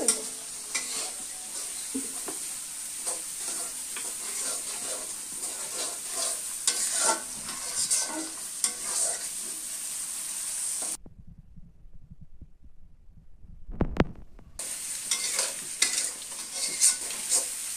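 Food frying in hot oil in a pan, a continuous crackling sizzle with stirring clatter close by, broken by a brief silent gap and a thump before the frying noise resumes.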